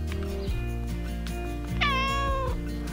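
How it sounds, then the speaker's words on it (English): A barn cat meows close by, with a short call early on followed by a longer, rising, drawn-out meow near the end, over a steady low background hum and no speech. "These little barn cats certainly know how to make our lives happier and more fun."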